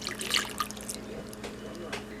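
Water pouring into cake mix in a mixing bowl, a brief trickling splash up close and fairly quiet.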